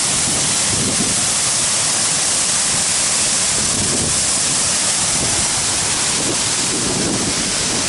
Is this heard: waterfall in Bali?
yes